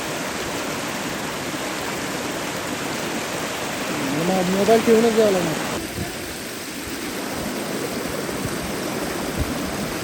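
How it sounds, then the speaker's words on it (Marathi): A strong stream of water rushes at a waterfall in Pale village as a steady broadband roar, with a person speaking briefly over it partway through. "पाण्याचा प्रवाह जोरदार आहे."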